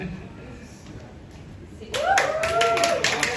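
Applause at the opening of Tiger Wong Agency in Taman Tecno BSD, quiet murmur then a sudden burst of close clapping with voices over it.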